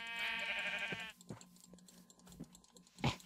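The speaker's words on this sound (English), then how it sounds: "Let's kill this sheep." A Minecraft sheep gives one clear, close bleat at the start, followed by soft clicks of keyboard typing and a short thump near the end.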